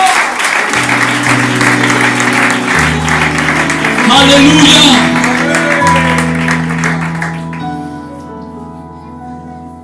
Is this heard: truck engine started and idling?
no